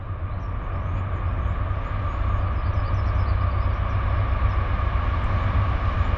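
A Norfolk Southern freight train rolls past on the Lehigh Line, a loud, continuous heavy rumble and engine drone filling the whole stretch with no talking.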